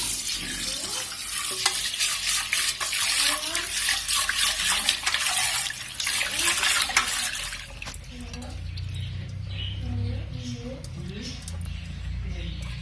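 Cooked rice being drained of water in a Mauritian home kitchen: a loud, steady rush of pouring water that stops partway through, leaving lower clatter and a speaking voice.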